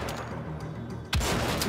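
Marksman rifle fire in Wolfenstein: The Old Blood: one sharp, loud gunshot cracks out near the end, over a continuous background din of game ambience and distant noises.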